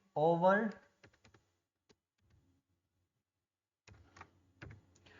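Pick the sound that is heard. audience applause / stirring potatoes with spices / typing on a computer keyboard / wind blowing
typing on a computer keyboard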